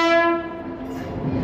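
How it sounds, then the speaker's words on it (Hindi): A Ballia to Sealdah express train sounds its horn on arrival at a station, a loud, close, sustained blast that fades into rumbling rail noise. "बलिया से सियालदह ट्रेन आ चुका है"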